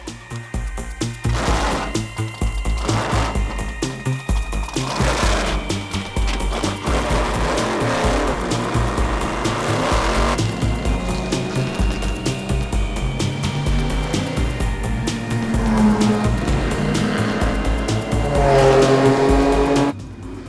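A GT race car drives hard on a track, engine rising and falling through repeated gear shifts and revs over twenty seconds, loud and close, with brief tire squeal.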